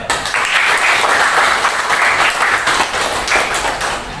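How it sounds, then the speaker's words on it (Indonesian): A class of schoolchildren claps together at the end of a lesson: dense, steady applause that fills the room, loud and continuous throughout with no pauses. "kita aplaus buat semuanya ya"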